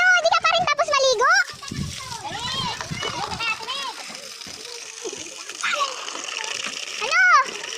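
Water splashes and sloshes in brief bursts as a child is bathed, with a voice and an adult talking loudly over the splashing close by.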